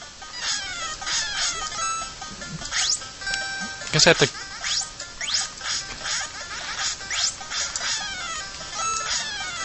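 Chickens clucking in the NES game Splatterhouse: quick, chirpy chiptune squawks mixed with other bleeping game effects, while someone talks over them throughout.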